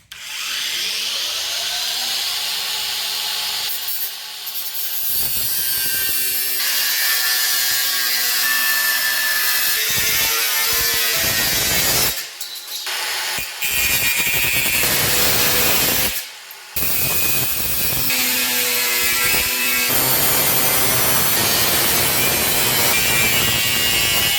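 A hand saw cuts through a large wooden RC helicopter blade on a shelf, loud close rasping strokes in a fast, uneven rhythm, broken by a few brief pauses and knocks.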